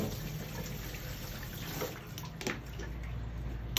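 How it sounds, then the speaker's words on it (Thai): Tomatoes being washed in water, a close, fairly quiet sloshing and splashing with light dripping and trickling, continuing steadily with small splashes throughout; no talking. "ต่อด้วยมะเขือเทศล้างทำความสะอาดนะคะ"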